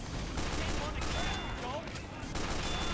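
Dense bursts of gunfire in a Team Fortress 2 match, pistol shots and sticky-bomb play amid a loud, continuous firefight that fills the whole stretch, with game noise layered over it.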